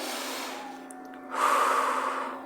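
Steady breathing, close and soft, with a stronger, louder exhale or inhale rising midway and continuing to the end, with no speech.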